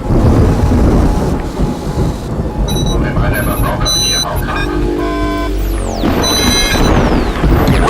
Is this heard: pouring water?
no